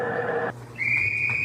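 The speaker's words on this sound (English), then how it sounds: "There's the whistle as the ball is teed up at the Rams' 40-yard line." A referee's whistle signals the kickoff of a Saints–Rams football game, a sustained high shrill tone that holds steady for most of a second after a brief lull, set against crowd and stadium ambience.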